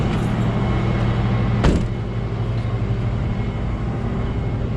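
Tow truck engine idling steadily with the PTO engaged, a loud continuous drone with one brief bang partway through.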